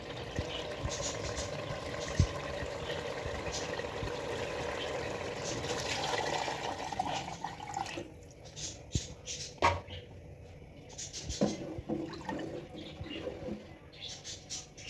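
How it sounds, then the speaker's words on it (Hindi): Water is poured into a pot of potato pulao masala, making a continuous rushing, bubbling splash that settles into softer sizzling and clinks, with a person talking over part of it. "अब हम इसमें डालेंगे पानी।"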